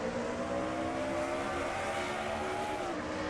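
A stock car in a racing video game, heard from the roof cam at Dover, holds a steady, buzzing, high-revving engine drone with faint tyre noise underneath, fairly quiet and without voices.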